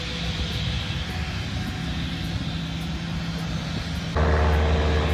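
An airplane engine drones steadily at an airport, a broad continuous roar that suddenly deepens and grows louder near the end, with no talk heard.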